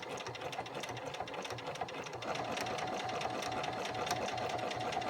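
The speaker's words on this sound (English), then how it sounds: "You begin by pushing on the presser foot, and the machine will start sewing the button stitch." A Bernina Activa 145 sewing machine stitching a buttonhole, a steady close mechanical whirring and rapid needle chatter running continuously and picking up slightly partway through.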